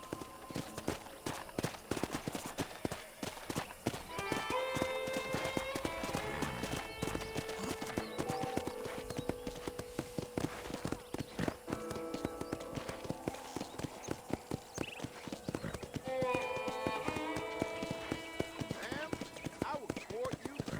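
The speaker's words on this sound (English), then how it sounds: "let's see if you can still ride a horse" Horse hooves clip-clop at a steady walking rhythm throughout a Red Dead Redemption ride, with game characters talking over it and occasional music-like tones.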